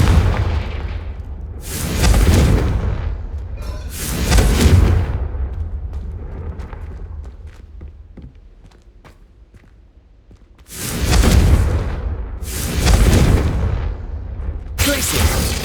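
Heavy fire-spell blasts in the Hogwarts Legacy game on PS5, loud booming explosions in two clusters, a pair, then a lull with faint crackles, then three more bursts.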